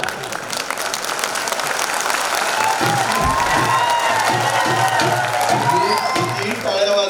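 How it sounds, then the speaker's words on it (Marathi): A crowd applauding at a political speech in Maharashtra, a sustained wash of clapping building in the middle and staying loud throughout, with some voices and cheering mixed in. "टाळ्या वाजवा आणि मला खुश करा तरी मी चुकणार ना."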